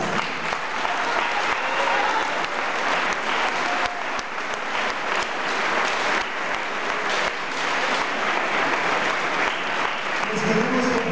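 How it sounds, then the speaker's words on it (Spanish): Steady, warm applause from a crowd in stands for the participating schools at the opening ceremony of a Mexican championship, loud and continuous throughout. "Vamos a pedirles un caluroso aplauso para todas las escuelas participantes."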